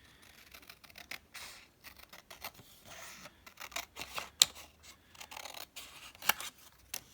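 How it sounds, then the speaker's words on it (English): Excess paper being trimmed by hand with scissors for slim notepad covers: quiet, close snipping and rubbing in irregular short strokes, with a couple of sharper clicks. "all I'm going to do is I'm just going to trim off the excess."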